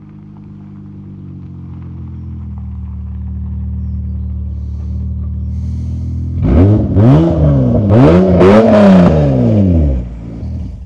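A Honda Accord's engine idles with a low rumble that slowly builds, then revs hard several times in rising and falling surges as the car is driven up, loud and close.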